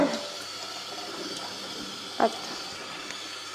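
Tap water runs steadily into a sink while a Hurom H320N juicer bowl with its auger is rinsed, a continuous hiss with one brief clatter midway and a short spoken word.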